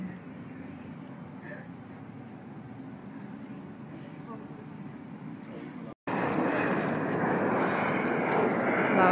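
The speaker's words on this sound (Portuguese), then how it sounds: "Lá o avião." A continuous roar from an airplane taking off near Congonhas airport rumbles throughout, swelling noticeably louder partway through, with voices talking faintly beneath it.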